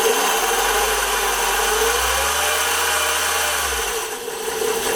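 A Taig CNC mill spindle inside a noise-reducing enclosure hums steadily at low speed, then its whine climbs in pitch as it ramps from 800 toward 5,000 RPM, a continuous close mechanical drone.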